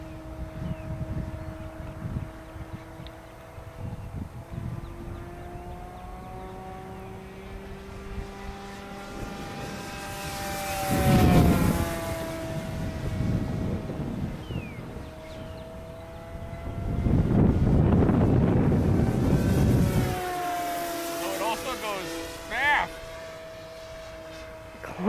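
A Durafly Cessna 182 RC model airplane buzzes overhead as it flies and climbs, its propeller whine rising and falling in pitch as it passes near and far, with louder swells between quieter stretches and voices talking over it.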